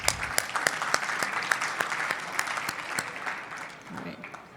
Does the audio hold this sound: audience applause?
yes